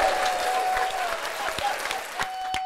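Applause from a paid studio audience, played as a sound effect, fills a short burst of dense, steady clapping with a faint crowd murmur.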